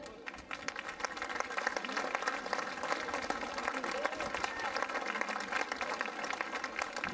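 An audience at a public event in a hall on the Île d'Olonne claps in sustained, dense applause that holds steadily at full strength from start to finish.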